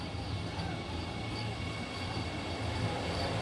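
A Vande Bharat Express, the Indian-built train made at the ICF facility in Chennai, pulls away after a flag-off ceremony in Kerala. Its steady, loud rolling rumble runs throughout with faint wheel squeal and no voices.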